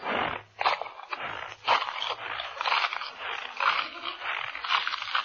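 A voice imitates a peppermint puggly-woogle being eaten, a snorting, scraping, crunchy mouth noise in uneven bursts, close up and thin like old radio audio.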